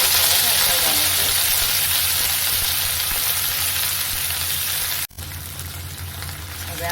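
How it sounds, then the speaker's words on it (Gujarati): Hing and turmeric tempering sizzles in hot oil for fenugreek greens with tomato gravy, a loud steady frying hiss close by that drops abruptly near the end, then continues more quietly. "હવે આપણે વઘાર કરી લેવાનો છે ભાજીનો."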